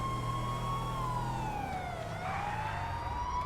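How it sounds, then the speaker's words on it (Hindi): A police siren in GTA 5 wails with a slowly sliding pitch, loud and close, over a low engine rumble. "एटलीस्ट ये सायरन सुन के दूसरी गाड़ियाँ रास्ते से हट जाती है"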